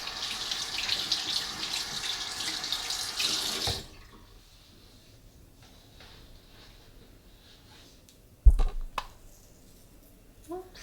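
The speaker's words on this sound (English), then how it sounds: "Just gonna rinse the hands off." A tap runs steadily in a hair salon as hands are rinsed, a close, even hiss lasting about four seconds before it shuts off, followed by quiet and a brief knock later on.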